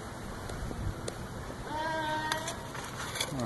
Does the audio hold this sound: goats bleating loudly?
yes